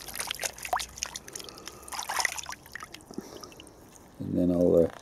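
Water trickles and sloshes as freshly harvested banana shallots and elephant garlic are swilled clean on an allotment, a brief rinse under a voice, ending in a louder splashing burst.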